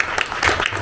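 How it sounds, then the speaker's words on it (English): Audience at a book launch event for debut romance author Talia Tucker claps for her, a brief burst of moderate applause filling the room. "Let's give her a round of applause."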